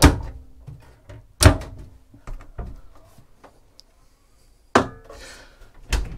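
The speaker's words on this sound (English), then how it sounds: "if I close that door over" A wooden interior cabin door aboard a Fountaine Pajot Elba 45 catamaran yacht is pushed shut, giving several sharp thunks and latch clicks spaced across a few seconds, close and distinct in a quiet room.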